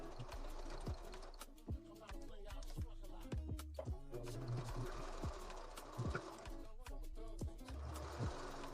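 Quiet home sewing machine running a zigzag stitch, a steady whirring with rhythmic mechanical ticks throughout, fairly close but low in level.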